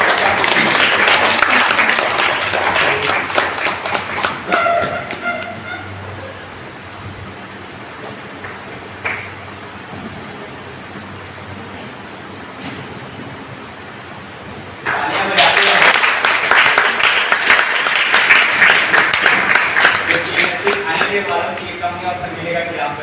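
Audience applause at an honour ceremony rises loudly, fades under a stretch of speech and murmur, then returns as a full, sustained burst of clapping from the crowd.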